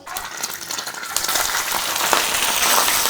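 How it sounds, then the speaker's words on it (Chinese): Sliced pork belly hits hot oil in a wok and fries with a loud, steady, crackling sizzle that builds and holds, no voices. "接下来起锅烧油，把切好的五花肉放下去"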